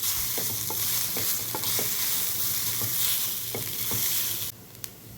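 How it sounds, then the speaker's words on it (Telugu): Cooked rice is stirred into fried spices in a pan for banana leaf rice, with a constant close sizzle and repeated scraping strokes of a spoon, then a quieter moment at the end; no voices. "ఇప్పుడు ఇందులో వండి ఉంచుకున్న అన్నం వేసి బాగా కలుపుకుంటే"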